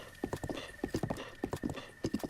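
Horse hooves gallop in the video game The Legend of Zelda: Breath of the Wild, a rapid rhythmic clip-clop of repeated hoofbeat clusters at a steady pace, moderately loud over a faint constant tone, with no voices.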